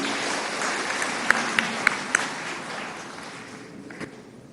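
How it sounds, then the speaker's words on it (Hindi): Audience applause welcoming the arriving state party president at a Garib Kalyan Sammelan (poor welfare conference) in Madhya Pradesh, with a fairly even, moderate wash of clapping and several sharper claps standing out before it gradually tapers off. "आइए ताली बजा के उनका स्वागत कीजिए"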